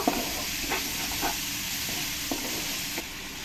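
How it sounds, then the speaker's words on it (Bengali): A spice paste with tomato paste, turmeric and salt hisses steadily in a pan for a pointed gourd and poppy seed dish, with a few soft stirring scrapes and clicks close by. "টমেটো পেস্টটা দিয়ে কিছুক্ষণ আমি এরকম করে ভালো করে ঘুটে ঘুটে মশলাটাকে কষিয়ে নেব"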